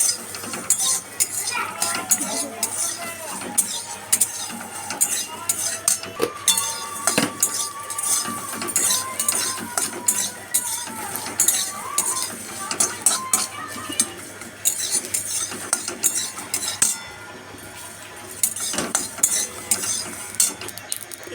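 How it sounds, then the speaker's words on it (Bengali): Black cumin stirred in a pan with garlic and chillies, a busy run of close metallic scrapes and clinks from a utensil against the pan over a faint sizzle, briefly easing off before resuming. "এর মধ্যে কালো জিরা দেব দিয়ে এবার ভালো করে নাড়তে থাকবো"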